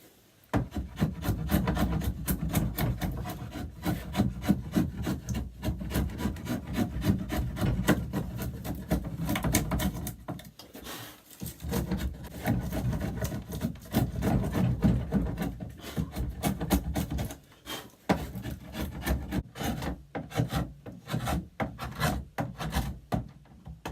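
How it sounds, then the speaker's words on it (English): A wooden worktop clamped in a jig is carved out with steady, continuous rasping and rubbing strokes, loud and close, pausing briefly around the middle before resuming in quicker bursts. "I'll put this in the jig and start to carve it out."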